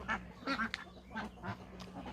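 Ducks quack several times in quick, uneven bursts, fairly close and moderately loud, with a low steady hum underneath.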